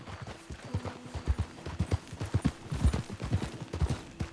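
Horse hooves clip-clop steadily in Red Dead Redemption 2, a continuous run of close, rhythmic thuds with no talk over them.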